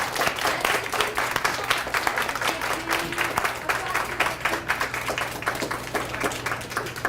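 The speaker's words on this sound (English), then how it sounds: "let's give them one last round of applause" A crowd claps continuously at steady volume at a school DARE graduation, a dense rattle of many hands with a low hum underneath.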